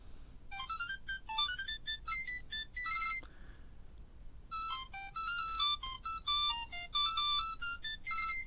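A Digimon Digivice 2020 handheld toy plays a bright electronic beeping melody of quick chiptune tones in two bursts separated by a short pause, clear and fairly loud with no talking.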